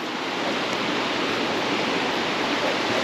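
Steady, broad surf wash from waves on the Baltic shore, a close and even roar that holds without pause, with no talking.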